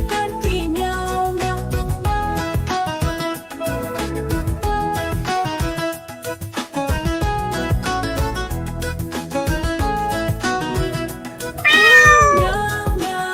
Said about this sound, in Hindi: बिल्ली करती म्याऊं म्याऊं म्याऊं म्याऊं म्याऊं